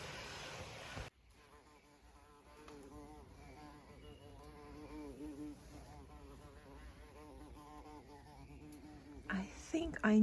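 Bumblebees buzzing around small holes in the rocks of a woodland garden by Lake Como, a low steady insect hum that continues for several seconds beneath other faint outdoor sounds.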